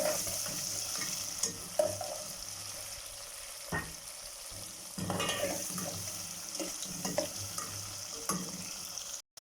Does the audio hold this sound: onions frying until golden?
yes